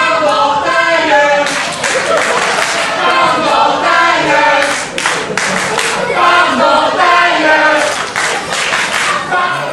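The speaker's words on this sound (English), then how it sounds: "Crowd just jeering Jeff Fury" A pro wrestling crowd jeers a wrestler at a live show, a loud, dense roar of booing, shouting and scattered clapping that swells and continues throughout, with voices mixed in.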